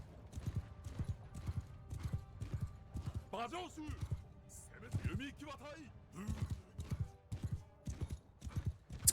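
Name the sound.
horse hooves clip-clopping in video game Mount and Blade 2 Bannerlord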